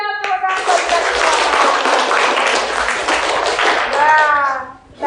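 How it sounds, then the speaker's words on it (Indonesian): A group of schoolchildren clap together in a classroom, a dense, steady burst of applause lasting several seconds, with children's voices rising near the end before it fades. "tepuk tangan buat kita semua"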